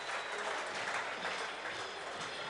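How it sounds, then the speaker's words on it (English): Sustained applause rises from spectators at a Featherstone Rovers against Dewsbury Rams Championship rugby league game after a try. It sounds as a broad, even wash of clapping that holds at the same level throughout. "Very popular try, getting an ovation from the crowd."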